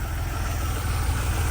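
Modified 3.2 liter car engine idling steadily, a low continuous rumble held close and even with no revving or other sounds.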